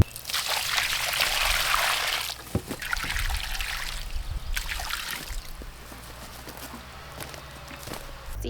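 Water trickles steadily from close by as it is poured onto a newly planted plant on a farm, with a heavier splash at the start that tapers off and a few soft thumps and footsteps underneath.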